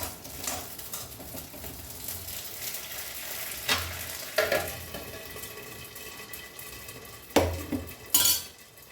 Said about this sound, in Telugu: ఇట్లా ఇవన్నీ కట్ చేసుకొని మనం మిరపకాయలు వేయించేసుకోవాలి